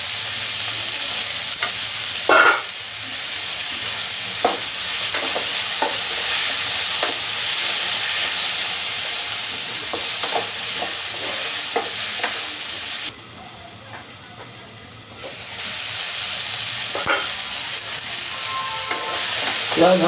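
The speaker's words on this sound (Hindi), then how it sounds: "प्याज हमारे लगभग भून चुके हैं।" Chopped onions and tomato fry in a hot pan, a steady loud sizzle with frequent scraping stirs, the sizzle briefly dropping lower for a couple of seconds before returning at full strength.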